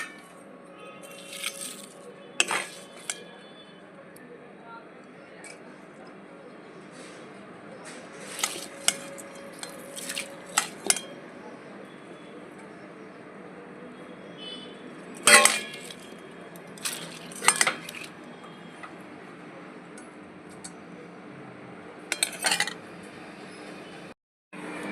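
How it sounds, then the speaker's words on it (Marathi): Cooled chilli garlic oil poured through a metal strainer, heard as sporadic clinks and scrapes of metal against a pot over a quiet background, with a few sharper clatters spaced out and no talking. "आता हे तेल आपलं गाळ झालेलं आहे, आपण ह्याला गाळून घेऊ."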